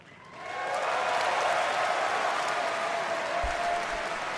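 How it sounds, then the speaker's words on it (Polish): Audience at BlizzCon applauds a presenter leaving the stage: clapping swells in over the first half second, then holds as a steady, dense wash of many hands, with no speech. "Klaszcze jej, bo schodzi ze sceny"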